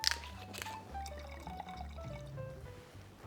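Merlot wine pouring into a glass, a steady liquid trickle over a low musical bed, moderately close and continuous.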